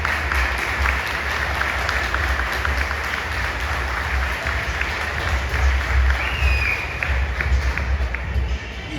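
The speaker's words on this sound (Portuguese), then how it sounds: "Aplauda Jesus nessa noite" Dense, sustained applause from a large church congregation, continuous and loud throughout with no pauses.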